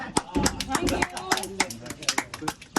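A small group of family members claps along in a quick, uneven burst of hand claps, close by and mixed with talking and cheering.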